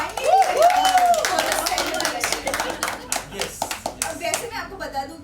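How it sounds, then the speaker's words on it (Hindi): At a family Diwali celebration, loud clapping breaks out, a dense burst of many hands that thins into scattered, individual claps, with voices heard over the start. "तो एक बार जोरदार तालियां हो जाए"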